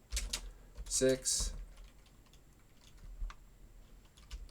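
A computer keyboard typed at close range while entering Python code, with short bursts of key clicks and a brief spoken number over the quiet tapping.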